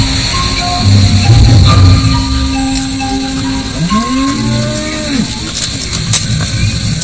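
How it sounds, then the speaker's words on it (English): Cattle herded by Afar pastoralists moo in a hot, drought-stricken desert, with a couple of drawn-out lowing calls rising and falling over steady outdoor ambience. "At this time of year, the Afar and their cattle are starving."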